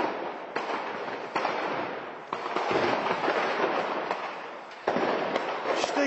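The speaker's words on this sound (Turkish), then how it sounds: "Dakikalardır patlıyor burası." An ammunition depot under a building blowing up continuously, a loud, dense rumbling crackle of bursts and pops that never lets up, with sharper blasts at several points.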